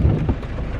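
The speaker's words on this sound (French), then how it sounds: "Donc là il pleut, mais vraiment jamais vu un temps aussi pluvieux." Heavy rain falls outdoors, a dense low rumble with a brief swell that may be distant thunder, loud and continuous through the short stretch, no talking.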